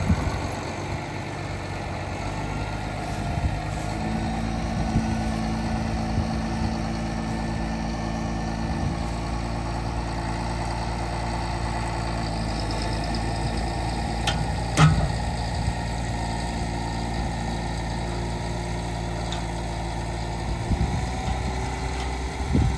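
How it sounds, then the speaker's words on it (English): A farm tractor with a chain hooked to its drawbar pulls a stuck vehicle out onto dry ground, its engine droning steadily at a low, even pitch throughout with a brief surge midway. "Got the tractor out, so we got a chain hook to the drawbar out to dry ground."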